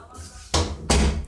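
A door closing in a home, heard as two firm thuds about a third of a second apart, fairly close.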